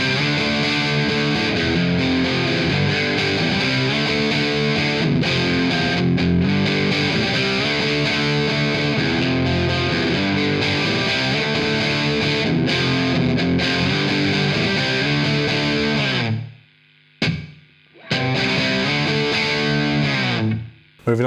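A 2022 Fender Player Telecaster on the bridge pickup, driven by a Tube Screamer for light grit, playing sustained distorted chords with a few brief abrupt stops near the end, loud and with no talking.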